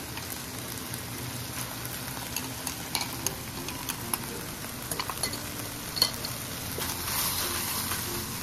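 Pork liver sizzles and crackles steadily in a hot pan for a Filipino menudo, with scattered pops and a brief stir, close and moderately loud with no talking.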